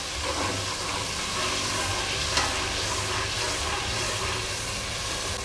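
Green chilies frying in oil over a low flame for yakhni chicken pulao, giving a steady close sizzle with a faint hiss and the soft scrape of stirring throughout.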